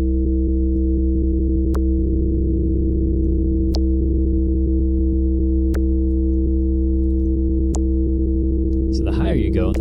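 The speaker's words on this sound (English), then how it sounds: "the typical dubstep wobble, you'll use this and you can sync it so it actually sounds good" A dubstep wobble bass from Ableton's Analog synth with a tempo-synced LFO: a loud, continuous, buzzing bass drone that pulses steadily, with sharp clicks about every two seconds.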